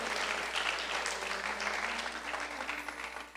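Sustained applause from an audience at a temple religious discourse gathering in New Jersey, a dense steady wash of many hands clapping with no talk over it, fading slightly at the end.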